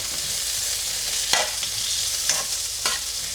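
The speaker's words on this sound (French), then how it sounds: "je vais y mettre les oignons, maintenant que c'est chaud" Salted onions fry in a hot wok with a continuous, even sizzle, broken by three brief stirring scrapes at intervals.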